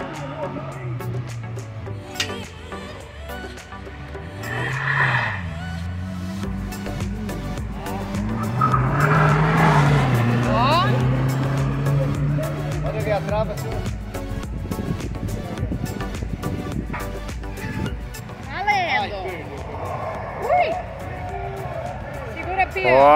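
Original, non-lowered Volkswagen Kombi vans in a Kombi race at the King Kombi event in Barra Bonita, with engines revving and tires squealing as they work through a curve, steady and fairly loud under excited crowd talk.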